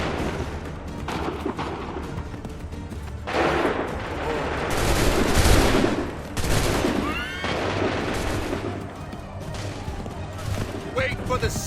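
Volleys of musket gunfire in Assassin's Creed 3, a line of soldiers firing on command, with several loud bursts and booms ringing over battlefield noise and shouted voices.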